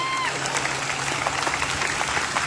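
Crowd applause at an outdoor gathering where Aboriginal peoples are being acknowledged, steady dense clapping throughout with a faint hum beneath.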